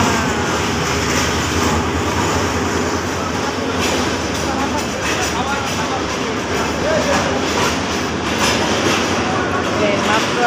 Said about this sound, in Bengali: এই যে ট্রেন মাত্র আসলো